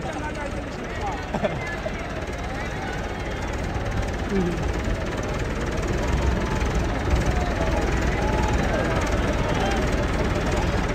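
A heavy tractor engine, a Massey 375 or Perkins 385, chugs and rumbles steadily throughout at a tractor tug-of-war contest, loud and close, with a low knocking idle under faint background chatter.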